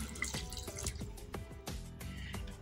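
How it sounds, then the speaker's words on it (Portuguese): About 100 ml of water poured into a pan of guava paste for melting, heard as a close, steady splashing pour with bright drips throughout. "Vou colocar aqui 100 ml de água."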